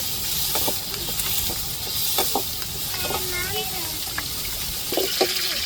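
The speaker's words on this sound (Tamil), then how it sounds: "தக்காளி சேர்த்துக்கிடுவோம்." Tomatoes hit a hot pan in a home kitchen with a steady, crackling sizzle that runs throughout, while a voice talks intermittently over the frying.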